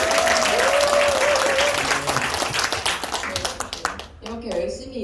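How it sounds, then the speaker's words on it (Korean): An audience at a lecture event bursts into sustained applause, a dense wash of clapping that tapers off over several seconds while a voice speaks over it through a microphone. "박수 좀 쳐주세요."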